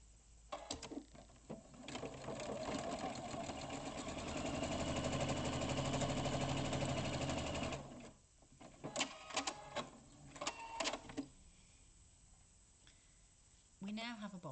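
A sewing machine stitching a straight seam through fabric for a rice-bag style gift bag, a loud steady whirring run of several seconds, then short stop-start bursts, with a person talking over parts of it.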